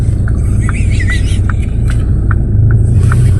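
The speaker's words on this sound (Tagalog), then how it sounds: "Ayan, may sasakyan." A car passes on a snowy residential street, a steady loud rumble of engine and tire noise that holds close throughout, with a faint voice or two underneath.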